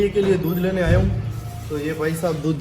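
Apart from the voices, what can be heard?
No distinct noise like a dog, phone or traffic.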